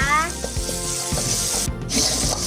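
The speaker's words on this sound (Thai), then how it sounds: "ก็เอาเครื่องมันลงไปผัดนะจ๊ะ" Thai spice paste being stir-fried in a pan, a steady sizzle with scraping stir strokes recurring through it, close and fairly loud, no talking.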